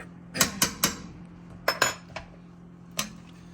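A utensil stirs chicken noodle soup in a pot, making sharp metallic clinks against the rim, three in quick succession, then a pair, then a lone knock, close and quiet over faint background hum.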